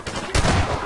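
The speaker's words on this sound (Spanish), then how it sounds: "Están disparando." Gunfire in the Half-Life 2 video game, a loud burst of broadband shots starting partway through and continuing as a dense, sustained rattle to the end, with no talk.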